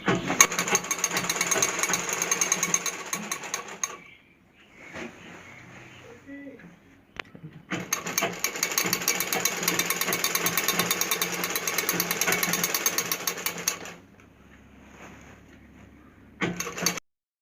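A sewing machine stitches a semi-stitched lehenga in two long loud rattling runs, separated by a quieter pause with handling noise and a brief final burst.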